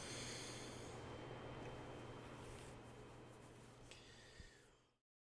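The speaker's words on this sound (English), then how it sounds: "gotta blow my nose" A long, noisy nasal blast of air, like someone blowing their nose hard into a tissue, fading out after a few seconds.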